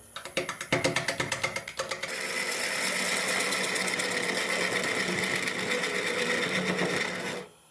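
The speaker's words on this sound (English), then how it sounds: "I'm going to get it on the lathe as usual and start some work" A wood lathe turns a dry, gnarly maple block. Rapid rhythmic clacking at the start gives way to a loud, steady whirring and cutting hiss that runs until it stops abruptly at the end.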